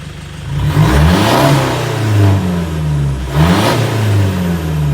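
A Toyota Hilux Vigo pickup engine with a remapped throttle revs up twice, loud and close, rising then falling back toward idle between blips.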